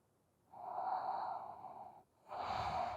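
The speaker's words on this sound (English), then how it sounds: "Deep breathing with sound." Deep yoga breathing through the nose: two long, audible breaths close to the ear, the first about a second and a half, then a brief pause before the second begins, with no talking.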